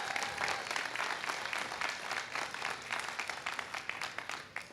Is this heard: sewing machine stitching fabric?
no